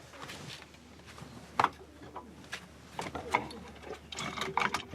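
A traditional Mauritanian lock is worked with its key, giving a series of metallic clicks, rattles and scraping mechanical sounds, close and irregular, with a few sharper clacks.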